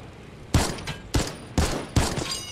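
Gunfire from a gun in the video game Fortnite, four loud sharp bursts spaced roughly half a second apart, each with a short ringing tail.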